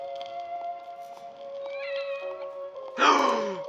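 A cat meows loudly and close in the horror video game The Evil Within: The Consequence, a single drawn-out cry bursting in near the end over a steady tonal musical drone.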